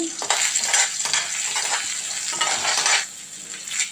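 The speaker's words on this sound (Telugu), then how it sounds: "కొద్దిగా ధనియాలు కొద్దిగా జీలకర్ర వేసుకొని వేయించుకోవాలి కొద్దిగా కరివేపాకు" Coriander seeds, cumin and curry leaves fry in a pan for gongura pachadi. A loud, crackling sizzle runs throughout, with stirring scrapes through it, close up.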